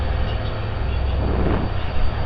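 A train departs Mariyammanahalli behind a WDG4 diesel locomotive on the Davangere to Hosapete diesel line. A loud, steady rumble of rolling wagons and wheels continues throughout, with no talking.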